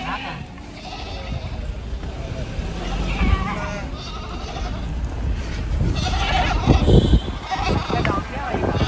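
Goats and goat kids bleat repeatedly near and far amid people talking outdoors, the wavering cries rising and overlapping toward the end.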